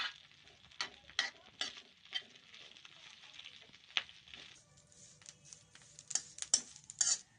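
Curry leaves frying in a pan for curry leaf powder, soft crackling and sizzling with intermittent sharp clicks and scrapes of stirring, fairly faint and close, with no talking.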